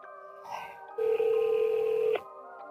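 A telephone call is placed: a few short dial tones, then a long steady ringback tone that cuts off abruptly, heard fairly close with no talking over it.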